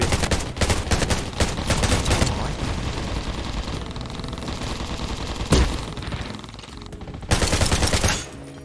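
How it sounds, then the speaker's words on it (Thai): Dense automatic fire without a scope in the shooter game Undawn, loud and close, runs in long bursts broken by brief lulls, with one sharp crack in the middle and no talk over it. "เราก็ต้องยิงอย่างนี้เลยครับ ยิงแบบไม่สะโขบนะ"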